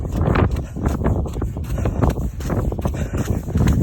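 Strong, steady wind buffets the microphone while someone runs through deep snow pits on a frozen ice-fishing spot beside the ocean in Maine, with rough rumbling gusts throughout.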